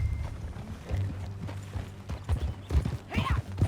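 Horse hooves clip-clopping in Red Dead Redemption 2, a steady run of close hoofbeats over low rumbling ambience, with a brief whinny-like sound near the end.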